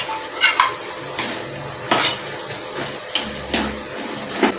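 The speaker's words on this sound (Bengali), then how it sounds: "কড়াইয়ের চাপাটা খুলবো, খুলে দেখবো হয়ে এসছে" A lid lifted off a wok of Malabar spinach cooking in a Bengali kitchen, heard as several sharp metallic clanks and scrapes spread across a few seconds, close and fairly loud against a quiet room.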